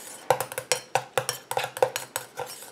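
Pineapple anti-cellulite cream mixture being stirred in a bowl, a quick run of light, rhythmic clinks and taps of the utensil against the container, close and steady with no talking.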